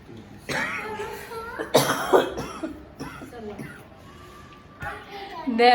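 A person coughs several times, loud and close, in short bursts among voices at home, with people talking, a child among them, between the coughs.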